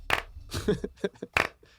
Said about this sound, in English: slapping his stomach in time to the beat